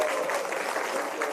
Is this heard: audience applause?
yes